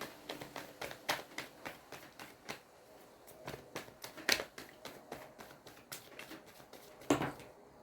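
Tarot cards being handled and drawn from a deck, a run of light papery taps and flicks in an uneven rhythm, close and fairly quiet, with a couple of sharper snaps.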